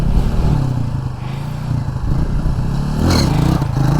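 A motorcycle engine rumbles steadily up close during wheelie stunt training, with a throttle rise near the end and some clatter over the continuous drone.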